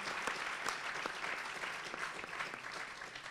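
A crowd at a political event applauds steadily throughout, a dense wash of clapping with a few sharper claps standing out.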